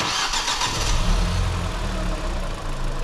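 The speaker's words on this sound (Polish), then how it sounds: "Teraz autko zapalimy." A Ford 1.5 EcoBoost car engine, freshly fitted, cranks briefly and catches, settling into a loud, close idle with a rough rattling clatter over its steady rumble.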